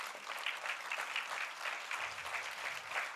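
An audience at an annual business meet award ceremony applauds steadily, a dense, even wash of many hands clapping throughout, moderately loud and without a break.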